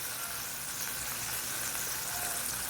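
Tuna simmering in soy sauce in a pan, a steady dense hiss and bubbling sizzle that stays even throughout, with no voices.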